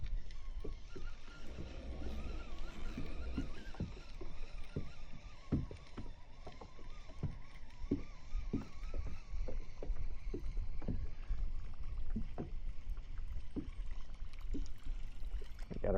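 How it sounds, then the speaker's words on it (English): Kayaks and boats out on open water nearby, with paddles dipping and splashing in an irregular rhythm against a low, continuous watery rumble, fairly close and steady throughout with no talking. "what is going on with all the kayaks and the boats out there, I wonder?"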